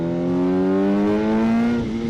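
Kawasaki ZH2 motorcycle accelerating hard in sport mode, its engine note a loud, close, rising whine that climbs steadily in pitch and then eases off near the end.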